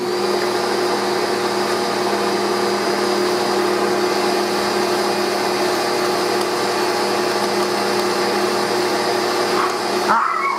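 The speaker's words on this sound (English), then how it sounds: "I'm going to go ahead and blend these together" An electric mixer creams room-temperature butter with a cup of sugar for cookies. It gives a steady, loud motor whine that holds unbroken for about ten seconds before cutting off.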